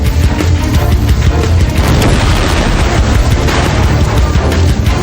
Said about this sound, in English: The blasts continue into the night as more of the 55-gallon drums are heated to the point of rupture.